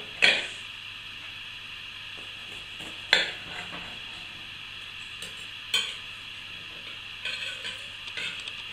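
A knife slices through a soft hazelnut cake, giving a few sharp clicks against the plate with faint scraping between them, close by and with no one talking.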